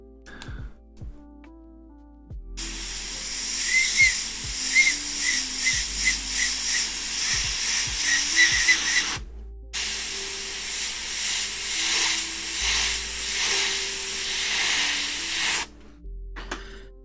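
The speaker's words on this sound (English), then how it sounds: "My mask is coming off and it's making a whistle" Air hisses loudly through an old, long-worn mask as it comes off, in two long sustained bursts with a faint whistling edge, broken by a short gap and surrounded by quiet moments.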